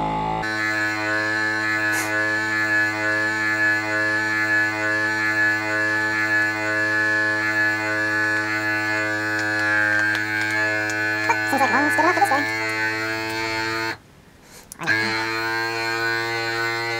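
A vacuum sealer pumps air out of a gun storage bag with a steady, close motor drone that keeps going, briefly cuts out near the end, then starts again.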